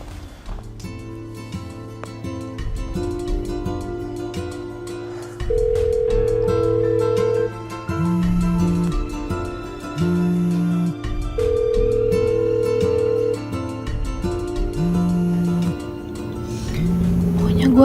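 A phone call rings out unanswered, with short electronic ringback tones repeating at steady intervals over a soft musical background and no one picking up.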